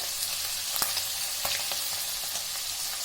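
Chicken pieces frying with cardamom and cinnamon for a pickle, a soft continuous sizzle with a few sharp crackles and spatters, fairly close and steady, with no talking.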